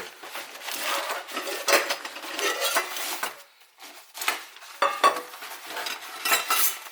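Small metal pot from a Kelly Kettle Trekker basic kit being handled, with repeated light metallic clinks and scrapes of lid and parts knocking together, close and fairly loud in uneven bursts with a brief pause midway.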